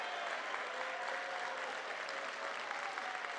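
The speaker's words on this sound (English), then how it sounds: "I'd like all of us to give them a rounding applause" A gala audience gives the standing staff a sustained round of applause, dense and steady clapping filling the room without letup from start to finish.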